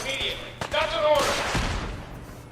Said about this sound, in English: It's just the explosions happening when I was not expecting it.